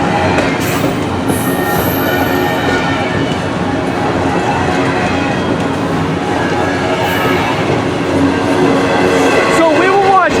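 Norfolk Southern V07 container freight train passing close by, a dense continuous roar of wheels and rolling cars with faint clickety-clack and a brief squeal near the end.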